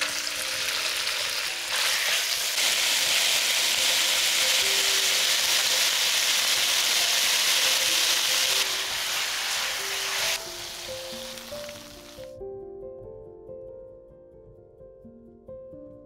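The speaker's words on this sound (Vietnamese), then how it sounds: "Và tiếp tục xào thịt bò." Loud, steady sizzling of beef stir-frying in a pan, which drops off sharply near the end, leaving a quieter tonal background.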